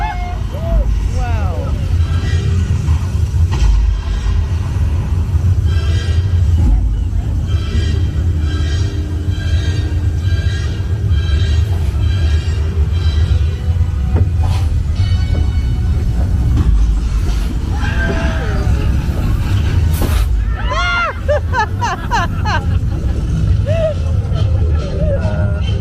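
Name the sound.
electric tram ride at Universal Studios Hollywood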